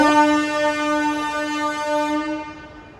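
A passenger train pulling out of Done Junction sounds a steady, loud horn blast that holds for nearly three seconds before fading, with a faint rumble underneath.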